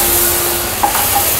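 Butter melting in a pan over a low flame for no-bake millet energy bars, with a faint steady sizzle and a couple of soft stirring scrapes, close and quiet, no talking.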